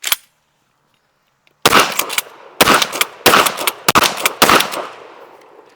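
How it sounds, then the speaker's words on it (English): A Sulun Arms SPAS-12 pump shotgun fires five loud, close blasts in quick succession after a brief pause, each shot ringing out sharply with no talk. "we can pump the Spas-12."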